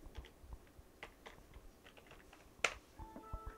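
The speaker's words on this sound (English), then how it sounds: "and then you enter your password" A password being entered on a computer keyboard, a quiet run of light, irregular key taps followed by one sharper click, then a few faint tones and a soft thump as activity ends.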